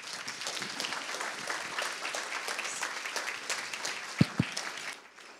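Audience at a lunch keynote applauding for Marqueece Harris-Dawson, a dense, sustained wash of clapping from a sizeable crowd, with a couple of sharp thumps near the end before it fades.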